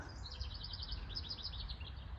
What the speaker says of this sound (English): The birds are singing for you.